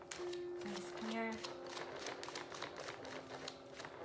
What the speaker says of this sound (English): I'm going to shuffle a little more here before we go.